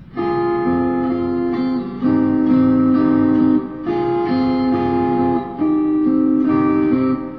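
A guitar plays the repeating intro phrase of a song, sustained, ringing chords that shift every second or two, full and close, without any talking.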